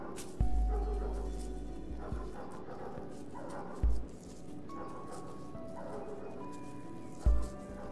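Several dogs bark in short separate bursts near a wall covered in graffiti, three loud barks spaced a few seconds apart over steady outdoor background noise.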